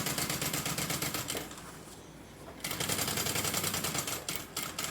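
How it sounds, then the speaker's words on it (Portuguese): A sewing machine stitches the side of a bag in fast, rattling bursts, up close; it pauses briefly near the middle, then resumes its rapid needle chatter. "E na mesma altura que eu costurei ali, eu vou costurar aqui também"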